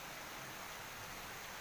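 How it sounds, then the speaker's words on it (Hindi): Heavy rain falls outside during a sudden downpour, a dense, steady hiss with no distinct drops or voices. "अभी अभी बाहर तेज़ बारिश शुरू हो गई।"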